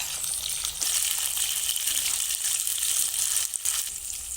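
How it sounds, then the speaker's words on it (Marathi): Chopped onion frying in oil on a medium flame for tempering, a steady bright sizzle with occasional stirring scrapes, close and continuous. "फोडणीसाठी आपल्याला इथे कांदा मध्यमाचेवर फ्राय करून घ्यायचा आहे"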